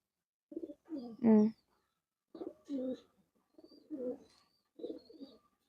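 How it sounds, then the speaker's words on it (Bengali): A baby pigeon gives soft, close, throaty coos in four short groups separated by brief pauses, in an otherwise quiet room. "একটা বাচ্চা কবুতর দেখাইলাম।"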